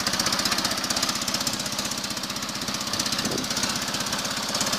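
A homemade tractor's Oka engine runs steadily and loudly up close, a rapid, even mechanical chugging with a rough, knocking edge, heard alone without talk.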